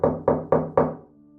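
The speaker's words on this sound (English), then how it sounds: "a series of knocks sounded." Four firm knocks on a door, evenly spaced and close, each a sharp woody thud that fades before the next, then quiet.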